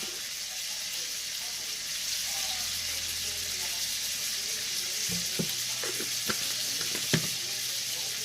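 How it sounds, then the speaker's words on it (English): Butter frying in a pan with a steady, even sizzle, joined later by a few light stirring and clinking sounds. "that butter in there and let it fry up"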